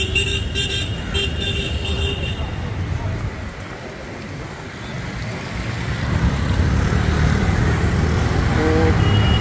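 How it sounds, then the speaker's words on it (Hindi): Long, congested city traffic waits at a red light near Santacruz station in Mumbai: engines rumble close by, a few short horn toots sound early, and someone talks over it. "बहुत लंबा ट्रैफिक है भाई।"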